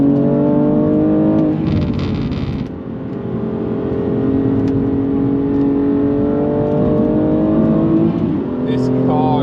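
A BMW M2 Competition with a manual gearbox drives its out lap on a race circuit, its engine droning steadily with a shift and a brief dip in revs before pulling again, heard from inside the car.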